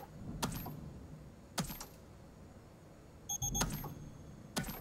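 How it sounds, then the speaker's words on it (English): Electronic beeping in Five Nights at Freddy's Help Wanted 2, with short chirping tones recurring several times among scattered bumps and clicks against a quiet game background. "What's the beeping?"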